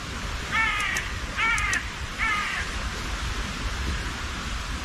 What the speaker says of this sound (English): birds are going nuts again